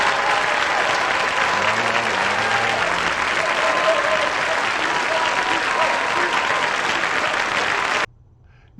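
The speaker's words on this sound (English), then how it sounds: "Now you can see from the clapping that Celine was really, really popular" Loud, sustained applause from a large Eurovision audience fills the space, steady and dense, ending abruptly near the finish.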